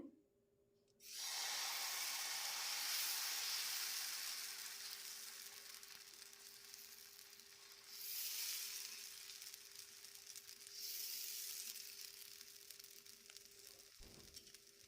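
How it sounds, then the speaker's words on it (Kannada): Sweet corn dosa batter hits a hot oiled tava on a gas stove and sizzles loudly and continuously, the hiss swelling again twice as it spreads, close and with no talk. "ಈಗ ದೋಸೆ ಹಾಕ್ತೇನೆ."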